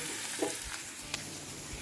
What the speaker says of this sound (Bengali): এখানটায় পেঁয়াজ ভাজা হচ্ছে সঙ্গে কাঁচা লঙ্কা দিয়ে